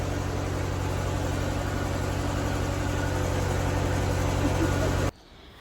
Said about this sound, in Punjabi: ਜਨਰੇਟਰ ਦੀ ਆਵਾਜ਼ ਬਹੁਤ ਜ਼ਿਆਦਾ ਆ ਰਹੀ ਸੀ